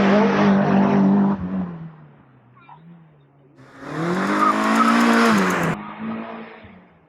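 A race car at the Tregrehan hill climb, 2023, roars past up the course in loud engine bursts with gear changes, dropping off between them before surging again, close and powerful.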